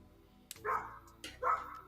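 A dog barks twice, about three-quarters of a second apart, each bark loud and close with a sharp onset and a short ringing tail, and no voices over it.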